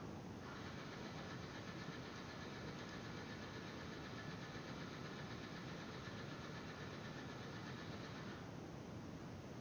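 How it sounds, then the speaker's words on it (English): A neighbour's moped or motorcycle engine drones and revs steadily in the background for several seconds, then eases slightly near the end, heard faintly through an open window with no talking. "He's trying to start his moped or a motorcycle or whatever it is."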